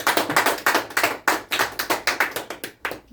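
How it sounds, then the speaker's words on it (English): A room full of people clapping together, steady dense applause that swells in waves and continues for a few seconds without any voices. "Let's give Mr. Hermona a clap"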